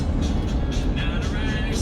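A car driving along a road through Richmond Town on Staten Island gives a steady, loud rumble of engine and road noise that holds without a break from start to end.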